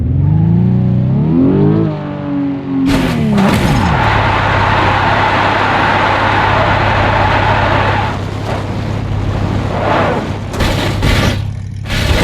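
In BeamNG Drive, a Porsche 911 engine revs and rises in pitch, then turns into a loud, steady roar mixed with heavy rushing wind and crashing bursts near the end, as if the car is caught in a tornado.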